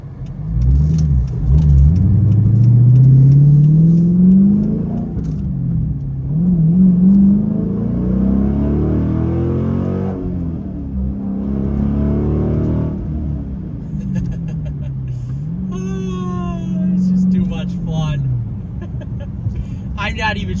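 A Dodge Challenger SRT8 V8 engine revs up and down several times through shifts, its deep roar layered with strong intake noise that rises and falls, loud and close, with a voice talking over it.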